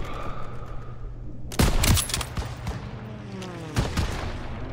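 Gunfire in the World War II video game Call of Duty WWII, a sharp close volley of shots followed by a few scattered bangs over low battle ambience.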